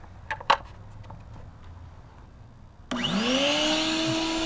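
A vacuum cleaner switches on partway through with a rising whine, then runs steadily and loudly after a few quiet knocks and clicks.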